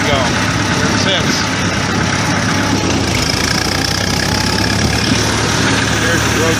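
Allis Chalmers D17 tractor engine running steadily in road gear, a loud continuous rumbling drone close by, with wind noise and no clear talk.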